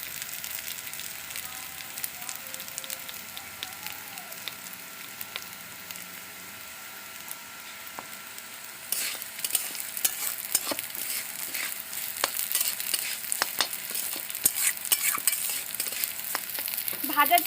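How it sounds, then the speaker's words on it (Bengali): Soaked Gobindobhog rice fries in a pan under constant stirring, giving a soft sizzle and scraping that grows noticeably louder and more crackly halfway through, close up with no talking. "ভাজার টাইমে নাড়তে হবে ভালো করে, অনবরত নাড়তে হবে, না নাড়লে লেগে যাবে।"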